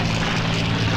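Steady, loud propeller-aircraft engine drone from a fixed-wing fighter in the flight combat game Combat Wings: Battle of Britain, a continuous close hum with a strong low tone and no talk.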